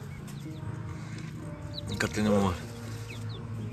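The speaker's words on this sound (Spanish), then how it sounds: "los 8 pollitos que salieron de la incubación en el balde de pintura" Eight newly hatched chicks from a homemade paint-bucket incubator, outdoors in the sun for the first time, give scattered faint high peeps under someone speaking Spanish, over soft outdoor background noise.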